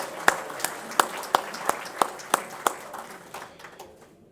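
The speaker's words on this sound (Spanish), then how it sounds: "pido un fuerte aplauso" Applause sounds as sharp, evenly spaced claps in a steady rhythm at a Rotary Club event in Buenos Aires, about eight strong beats before fading out.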